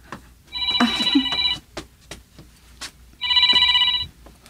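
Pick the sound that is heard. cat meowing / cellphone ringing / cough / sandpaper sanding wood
cellphone ringing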